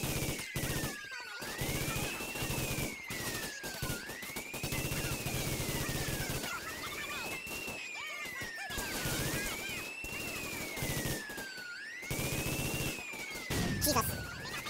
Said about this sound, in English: And shoot all the cops.